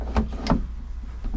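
A caravan's double door opening or closing, two quick close knocks in quick succession, followed by faint softer thuds, with no talk.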